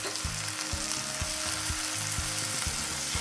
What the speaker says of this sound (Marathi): याच्यामध्ये मी टोमॅटो बारीक चिरलेला आहे, ते पण टाकून घेणार आहे.